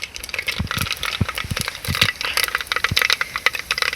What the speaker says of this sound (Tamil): கடுகு வெடிக்கிறேன்.